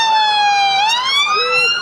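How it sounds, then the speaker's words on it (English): A police car siren wails loudly and steadily at a staged emergency incident during an Emergency Services Day event at Brooklands, its rising and falling tone continuous and close. "we have police car"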